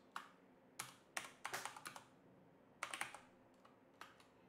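Typing on a computer keyboard while entering names and roles for on-screen credits, quick bursts of close key clicks separated by short pauses, with no talk.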